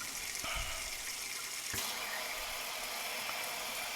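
Hot water pours steadily for a cast iron skillet at breakfast, a continuous rushing gush with a brief louder splash near the start and another midway, no voices.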